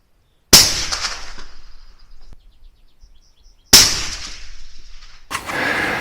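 Two sharp, loud rifle shots from a Benelli Lupo bolt-action fired downrange at a target, spaced about three seconds apart, each with a ringing echoing tail, followed by a burst of rustling noise.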